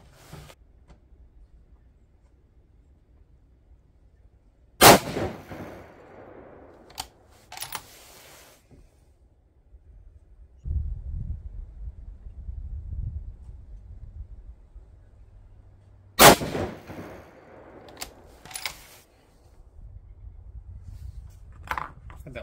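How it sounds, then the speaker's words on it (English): Two sharp rifle shots from a 6.5 PRC firing 130-grain ELD-M handloads with H4831SC powder, about eleven seconds apart, each followed by short clicks and clatter amid quiet outdoor background. "We're just going to leave it and go ahead and shoot them."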